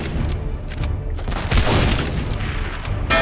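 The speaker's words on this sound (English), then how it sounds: "Yep, they're still firing at us." Enemy gunfire and heavy booms in the Darkest of Days game, a dense barrage of loud cracks and rumbling impacts that swell midway, close and continuous.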